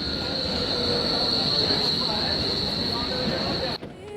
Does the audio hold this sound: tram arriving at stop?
yes